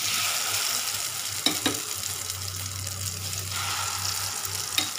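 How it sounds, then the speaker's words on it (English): A potato and onion egg mixture fries in a pan, a steady soft sizzle with a low hum beneath and a few light clicks of a utensil. "I'll add half a portion of the mixture in the pan."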